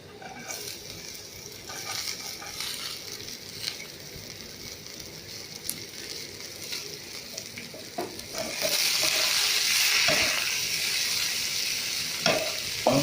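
Chopped cabbage for chowmein sizzling steadily in a hot pan, a constant frying hiss that swells louder partway through with occasional stirring scrapes, close and continuous with no talk.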